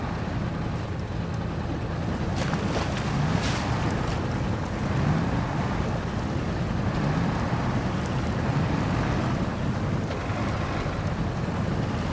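Truck driving through water in Expeditions: A Mudrunner Game, a steady washing, sloshing rush of water over a low engine rumble, continuous and moderately loud throughout.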